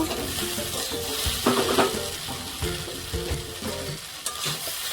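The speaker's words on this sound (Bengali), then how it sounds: "এই সময় ভেন্ডিগুলো দিয়ে দেব।" Okra hitting a pan of frying onions, a bright close sizzle with clattering stirring and scraping, the hiss easing slightly toward the end.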